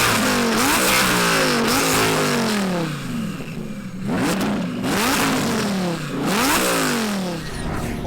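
A 1400 hp twin turbo Audi R8 Spyder accelerating hard, loud and close, its engine pitch climbing through several gears in rising sweeps with brief dips at each shift.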